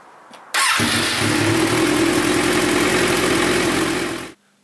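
A Kawasaki Z1000 motorcycle engine cranks and fires up in a garage after a coolant change, then settles into a loud, steady, throbbing idle close by for several seconds before cutting off.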